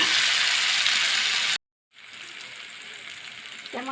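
Ginger and garlic frying in a pan make a loud, steady broadband sizzle that cuts off abruptly, then resumes more quietly after a short silence.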